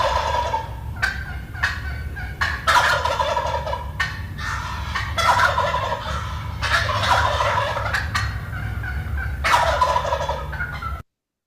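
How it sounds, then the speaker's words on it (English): Wild turkey gobbles in springtime, several rattling bursts repeating every second or two at moderate distance, standing alone over a steady low outdoor rumble with no talk. "So you can hear what that sounds like if you've never heard a gobble before."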